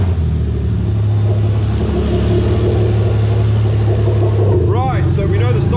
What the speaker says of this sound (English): So what we're going to do is come to the vehicle and we're going to start it